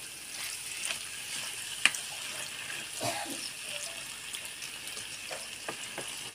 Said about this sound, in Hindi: और इसको अच्छे से भूनेंगे। और चिकन को गलने तक पकाएंगे।